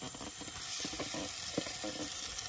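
Boiled chicken pieces being stirred into a pan of frying tomatoes and green chillies for a village-style chicken fry, giving a steady close sizzle with soft scraping stirs and no talking.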